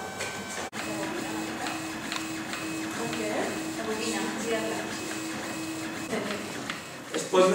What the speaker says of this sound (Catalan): aquí ens permetria moure la impressora cap a diferents bandes